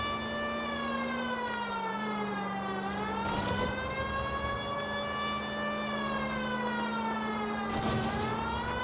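A loud, droning police siren in L.A. Noire on Xbox Series X holds a steady pitch, slowly dipping and climbing again, with brief bursts of noise near the start and the end.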